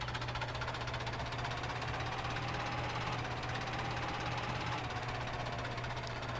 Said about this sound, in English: the nice thing with Gearbox mod is you can just let the tractor creep while backing up stuff